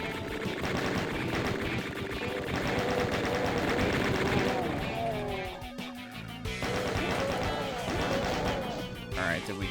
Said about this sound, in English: Way too many chain gunners.